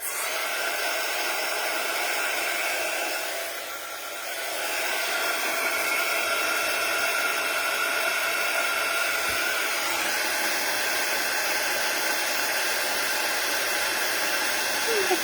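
A heat tool melting embossing powder on stamped ink, a steady loud blowing hiss with a brief dip in the fan noise, held close and continuous.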